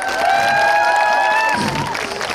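Outdoor concert audience at a town festival open-air music show applauding and cheering after an encore, a steady wash of clapping and shouts with high sustained whistles or cheers over it, fairly loud and continuous.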